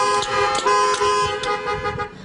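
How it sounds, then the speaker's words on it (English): Car horns honk repeatedly from vehicles parked at an outdoor drive-in Easter church service, several loud overlapping toots and longer blasts sounding in quick irregular succession over a steady tonal hum. "they were honking their horns before service just to tell us that the sound was working"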